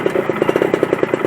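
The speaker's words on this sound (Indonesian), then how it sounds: "kalian tiba-tiba ngegas tinggi" Yamaha F1ZR two-stroke motorcycle engine revved high, giving a loud, rapid buzzing pulse that repeats quickly for just over a second.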